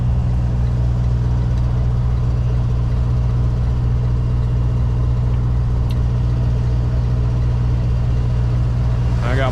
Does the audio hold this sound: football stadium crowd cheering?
no